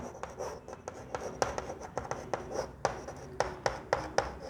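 Pen scratching out a maths question on paper, a rapid series of short dry strokes close up, with no voices.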